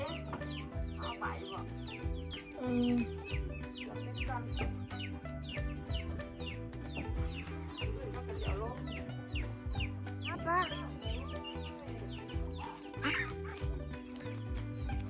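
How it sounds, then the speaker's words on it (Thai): Ducks quack and chickens cluck in a busy, continuous chorus close by, calls overlapping throughout with music or a voice underneath. "เป็ดไก่แต่ละคนนะพี่น้อง"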